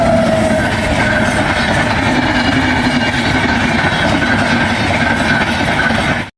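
A train rolls in with steady, loud rumbling and a clattering mechanical hum that holds evenly throughout before cutting off at the end, with no talk over it.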